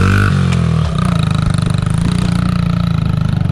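Honda XR50 fitted with an 88cc big bore kit climbing a hill in second gear, its small single-cylinder engine droning loud and close under steady throttle after a brief higher rev at the start.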